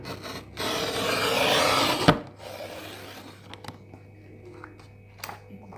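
An A4 paper sheet is cut at 14 cm for a handmade notebook. A loud, close rasping slide lasts about a second and a half and ends in a sharp snap, followed by quieter handling rustles.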